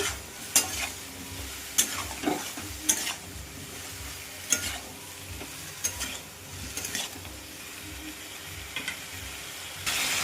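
Spiced vegetables with salt, turmeric and cumin powder sautéed for a prawn curry with ash gourd, a steady sizzle broken by repeated sharp spatula scrapes and knocks against the pan.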